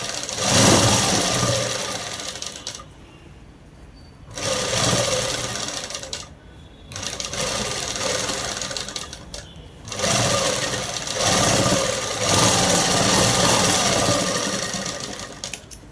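A sewing machine runs in several bursts while stitching a top seam on fabric, loud and close, broken by short quiet pauses between runs.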